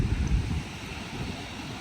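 Wind blows at a Thai seaside, a steady, rough low rush with gusty buffeting at the start that settles into a constant breezy roar.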